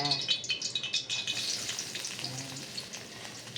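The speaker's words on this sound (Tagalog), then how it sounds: "Pag ako nagigisa ng ricado, sinasabay ko na siya." Garlic and onion sizzle loudly in a hot pan as the aromatics sauté, with crackling spatters and stirring scrapes that start strong and settle into a steadier fry.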